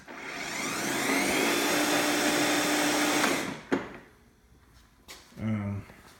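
An Ego LM2102SP cordless self-propelled mower motor whirs steadily at high speed with no load for a few seconds, then winds down, followed by a couple of clunks and a short rev.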